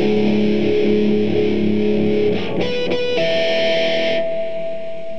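Distorted electric guitar playing the second part of a riff, heavy chugging low notes that shift to ringing sustained tones partway through, loud and close with no talk.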